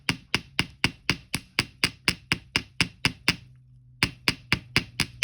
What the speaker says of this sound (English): I'm going to hammer the bottom end of this